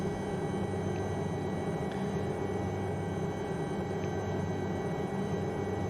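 An Aérospatiale Lama SA315 helicopter hovers in strong winds. Its rotor and turbine make a loud, steady, close drone with a broad rumbling wash that never lets up.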